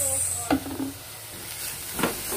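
Vegetable soup with fish sauce being stirred in a pot, two short scraping strokes over a low background hiss, brief and close.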